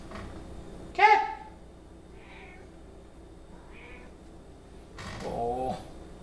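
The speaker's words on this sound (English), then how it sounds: "What do you want, cat?" A pet cat meows close by, one loud harmonic meow followed by two soft short mews and a longer wavering meow at the end; no clear purr stands out.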